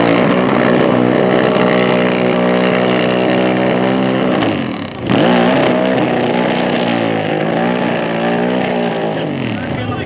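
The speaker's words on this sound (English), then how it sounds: "round number one of the GETTRX Prostock Motorcycle All-Star Call-Out roars to life" Pro Stock drag racing motorcycles at NHRA Sonoma, an all-star call-out round: loud, close engines sustain a steady high-pitched roar, dip sharply for a moment, then surge back and hold to the end, with no talk.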